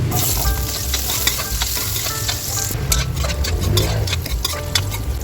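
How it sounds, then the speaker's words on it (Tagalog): Carrots frying in hot oil for pork belly caldereta make a loud, steady, crackling sizzle close up, with stirring clicks and scrapes of a utensil throughout and no voices. "Meron na rin tayong guys na pinapainit na mantika. Fry muna natin itong ating carrots."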